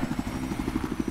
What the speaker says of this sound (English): I'm gonna get in the chopper.